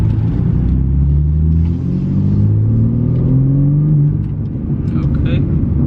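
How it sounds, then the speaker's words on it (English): A 2024 manual BMW G80 M3 on its stock exhaust burbles and rumbles steadily from inside the car, with rising engine tones and a voice speaking over it. "Little stock burble action."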